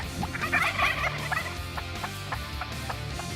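Wild turkeys gobble at a distance during spring turkey season, a few bursts early on, followed by a series of short, regular clucks against outdoor background noise.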